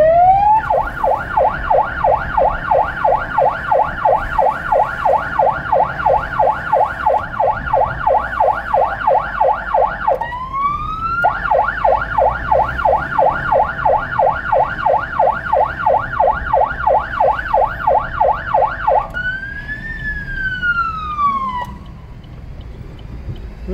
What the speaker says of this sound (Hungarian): Ha beázott ez a sziréna.